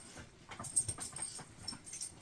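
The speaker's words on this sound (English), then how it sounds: "She's still a very hyper little dog." A hyper little pet dog whimpers and whines softly in short, uneven bursts close by, quiet and alone with no talk.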